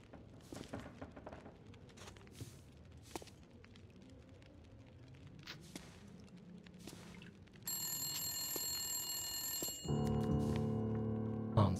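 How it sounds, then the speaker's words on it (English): In the video game The Long Dark, a telephone bell starts ringing partway through over a low rumbling ambience with scattered clicks, growing louder and more insistent toward the end. "Answer the phone."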